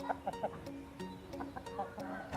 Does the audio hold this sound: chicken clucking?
yes